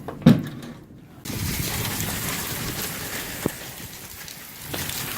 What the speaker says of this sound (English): it's pouring rain now, as you can see